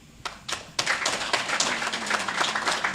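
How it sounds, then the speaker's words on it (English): People at a gala dinner and awards ceremony begin clapping, a few scattered claps at first quickly swelling into steady, close applause from a modest crowd. "So I think we should clap hands for ourselves"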